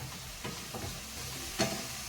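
A split green chili drops into a hot pan for bell pepper fried rice, giving soft stirring scrapes and then one sharp, brief burst of sizzling before it settles into a quiet hiss.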